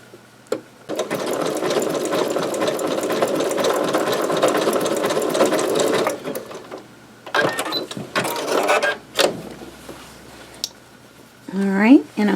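Sewing machine running a zigzag stitch to close a T-shirt seam, a loud steady buzzing hum for about five seconds, then short bursts and handling noises before a voice speaks.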